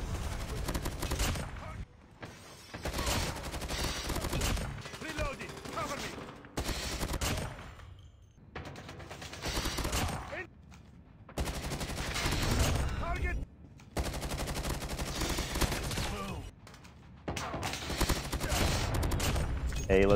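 CR-56 AMAX rifle gunfire in a first-person shooter game, repeated bursts of rapid automatic shots separated by short silences, with a voice talking in between.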